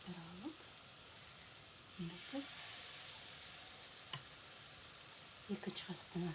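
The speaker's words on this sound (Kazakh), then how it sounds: "осылай қуырамыз." Oat cutlets fry steadily in a hot pan, a continuous close sizzle with faint crackles and a few soft scrapes, while a voice speaks briefly now and then.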